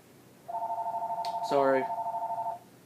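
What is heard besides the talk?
telephone ringing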